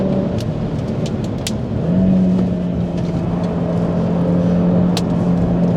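A 390hp five-cylinder Cupra Formentor VZ5 accelerating hard on a high-speed closed-road section, its engine note climbing steadily and loud and close from inside, with road and tyre roar beneath.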